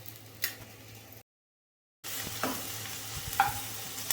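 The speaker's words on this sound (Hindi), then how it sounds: "तो मैं प्याज को फ्राई कर रही हूँ।" Onions fry in a pan in a home kitchen, giving a steady close sizzle with light stirring clicks, cut by a brief silent gap partway through.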